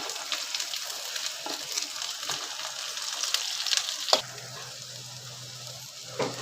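Onion fries in a pan for a Malvani-style cashew curry, a soft, steady sizzle with occasional spatula scrapes and a clunk partway through, followed by a low hum.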